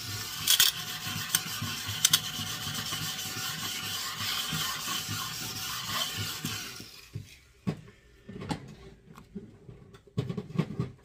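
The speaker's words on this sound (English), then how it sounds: "I'm going to vacuum it up." A steady broadband whoosh of a vacuum cleaner sucking up debris during tumbler crafting runs for several seconds, with small rattling clicks, then cuts off, leaving scattered handling knocks.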